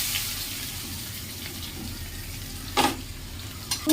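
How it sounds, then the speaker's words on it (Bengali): Chopped onion frying in hot oil already seasoned with cumin, bay leaf and dried red chilli, for a pointed gourd and potato fish curry; a steady soft sizzle runs throughout, with a brief louder burst of crackle near the end. "এবারে কুচনো পেঁয়াজটা দিয়ে দেবো"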